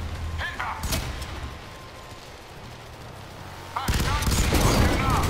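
Gunfire in the video game F.E.A.R. 3, with a few sharp shots early on, a quieter lull, then a loud dense burst of rapid fire near the end.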